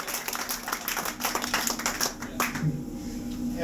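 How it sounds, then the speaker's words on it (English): Wedding guests applaud during a best man speech, a lively burst of clapping from a room of people that fades out after a few seconds, with some voices underneath. "Round of applause, please."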